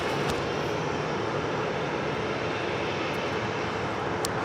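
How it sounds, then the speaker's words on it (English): A Korean Air Airbus A380 taxies at Los Angeles International Airport, its engines giving a steady, broad roar that holds at an even level throughout, with no voices over it. "The Korean Air A380 Super now making his way over here to the south side."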